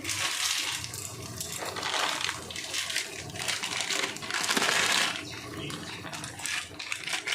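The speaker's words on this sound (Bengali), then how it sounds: "এবার আমি ম্যাগিটা দিয়ে দেব। এই সুপের মধ্যেই ম্যাগিটা দিয়ে দিতে হবে।" Dry Maggi noodles dropped into a simmering pot of vegetable soup make loud crunching, rustling and splashing sounds, with bursts of crinkling and sloshing liquid close to the listener throughout.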